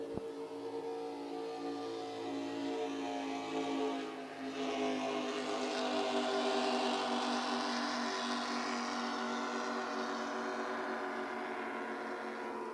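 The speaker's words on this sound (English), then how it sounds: "Just listen to those motors" Powerful offshore superboat racing engines roar past in a sustained, throbbing drone that swells and slowly recedes, loud and continuous with no voices.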